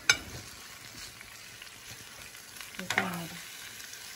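Sliced tomatoes and onion sautéing in a pan for a chicken vegetable broth, a soft steady sizzle with a couple of utensil scrapes near the start and end, a brief voice speaking over it.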